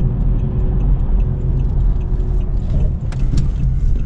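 A Pontiac G6 GT engine hums and rumbles steadily from inside the cabin while driving, with faint ticking clicks near the end.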